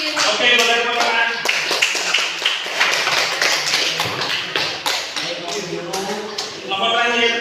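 A classroom of students claps together, a dense burst of applause that carries on steadily for several seconds, close and loud, with voices mixed in beneath.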